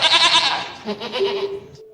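A goat bleats loudly and close by in one long, wavering call that trails off into quiet. No one speaks.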